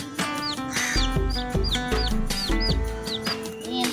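Chickens cluck and call repeatedly near a backyard chicken house, with clear rhythmic clucks and rising chirpy notes overlapping steadily, no talk.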